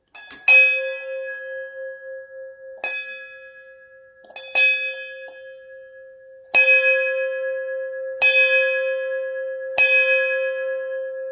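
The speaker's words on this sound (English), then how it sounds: "We'll hear the bell again." A bell is struck six times at uneven intervals, each bright metallic strike ringing on with a long sustained hum that overlaps the next.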